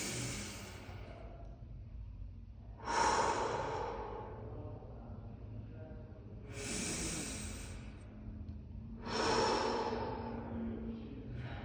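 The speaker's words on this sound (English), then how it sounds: "and then I'm going to breathe back in." Slow, audible breaths in and out during a short foot exercise for runners, three soft airy swells with pauses between them, close and alone with no talk.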